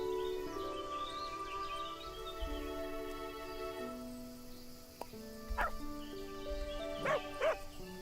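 Dog barking in the farming video game Everdream Valley, a few short barks and yips over steady background game music, with ambient chirping around them.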